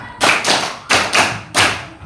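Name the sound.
children clapping a five-beat rhythm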